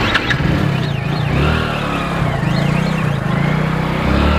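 A vehicle engine idling and revving as the vehicle turns around, a loud, close mid-pitched drone that rises and falls in pitch.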